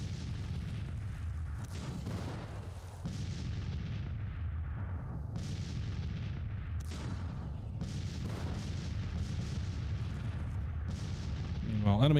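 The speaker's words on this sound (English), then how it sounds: "So artillery is opening up. At least one of the batteries is." Artillery batteries fire in Grand Tactician: The Civil War, a dense, continuous rumble of booming cannon with sharper reports near 2, 7 and 8 seconds, sustained and loud throughout with no clear pauses.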